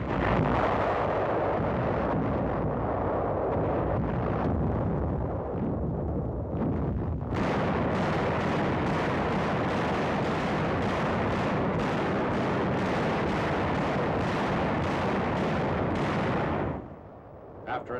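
Archival war film of a naval artillery bombardment before a beach landing at Ormoc Bay: loud, dense, rumbling barrages of gunfire and blasts roll on continuously, with harsher, sharper volleys and distorted wind-like noise in the later part.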